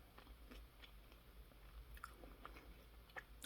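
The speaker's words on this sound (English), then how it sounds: "what you get first is the little crispy, crunchy bites" Close, quiet chewing of small crispy, crunchy caramel rice bites, with scattered sharp crunches and bites over a low background hum.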